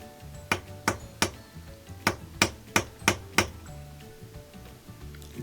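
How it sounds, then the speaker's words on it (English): Sharp metallic taps from a small appliance hammer striking the motor coupler of a Kenmore washer that won't agitate or spin, about eight distinct hits in an uneven rhythm, close and fairly loud, followed by quieter handling noise. "These are little appliance hammers that I keep in my toolkit."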